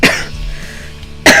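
A person with a cough and sore throat coughs twice, a harsh burst at the start and another about a second later, loud and close with no talk.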